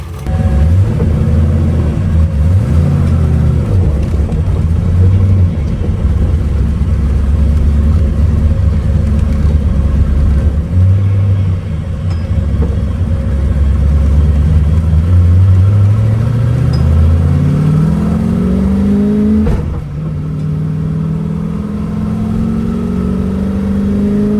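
Car engine running steadily on a test drive, a loud, close, continuous hum that rises and falls in pitch as the car accelerates and shifts.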